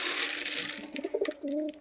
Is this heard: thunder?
no